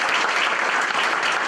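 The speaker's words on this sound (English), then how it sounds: "So big round of applause for all the candidates." Loud, dense audience applause for candidates at a candidates night, continuous and close throughout the short stretch.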